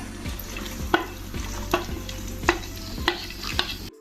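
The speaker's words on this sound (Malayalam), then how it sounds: "തേങ്ങാക്കൊത്ത് ഒരു ബ്രൗൺ കളർ ആവുന്ന വരെ നമുക്കൊന്ന് മൂപ്പിച്ചെടുക്കാം" Coconut bits frying in hot ghee for neyyappam, a steady crackling sizzle with periodic clinks of a spoon stirring the pan about every half second, close and alone with no voices.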